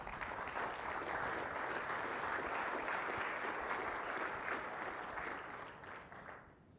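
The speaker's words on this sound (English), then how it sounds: "Can we please all give them a huge round of applause?" Dense, even applause from a large audience at a business event, a continuous wash of clapping hands that holds steady for several seconds before thinning out and fading near the end.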